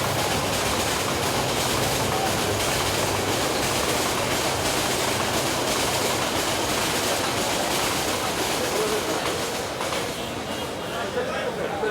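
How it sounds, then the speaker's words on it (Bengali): A loud train rumbles and rattles past close by without a break, while voices at a crowded funeral gathering near the tracks shout over the din. "ট্রেন আসতেছে ট্রেন আসতেছে সবাই লাইন ছেড়ে দেয়"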